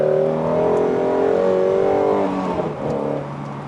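A Shelby GT350 on winter wheels and tires drives with a steady, loud engine drone that holds its pitch, then dips slightly near the end.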